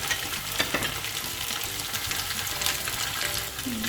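Fish for a Kerala-style fish molly sizzles steadily in hot oil in a pan, a constant close frying hiss with small crackles and no talking.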